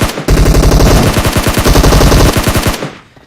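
Rapid automatic gunfire during a battle royale video game match, a loud, close, continuous burst of dense shots for nearly three seconds that trails off at the end, with no talking.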